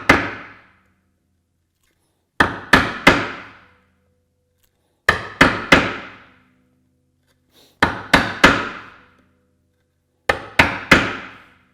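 Chisel driven by a mallet, chopping out wood for a hand-crafted bookcase. Crisp, loud clusters of three or four sharp strikes, each ringing out briefly, repeat about every two and a half seconds, with silence in between.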